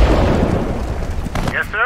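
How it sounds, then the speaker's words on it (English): Heavy explosive rumble from artillery fire in a Battle of Sedan war video game, a loud continuous low boom filling the moment, with short voice lines and chatter breaking in near the end. "Artillery fire!"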